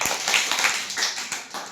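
Two hand claps in a primary-school classroom lesson, close and sharp, with faint background voices.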